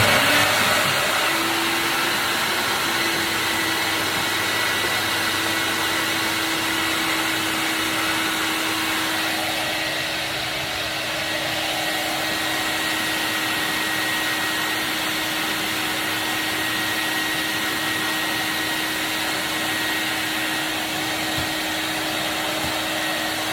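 A suction unit drones steadily and loudly for over twenty seconds while sucking fry vat oil during cleaning before an oil change, a constant whooshing roar with a steady motor whine underneath.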